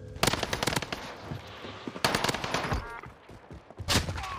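Rapid bursts of AK-47 fire in a first-person shooter game, sharp repeated reports in clusters with pauses between them, fairly close and loud.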